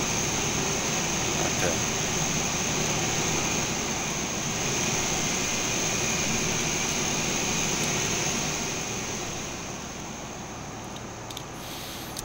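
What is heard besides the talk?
APU running on Q400 in flight simulator video game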